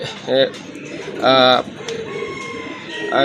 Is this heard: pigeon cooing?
yes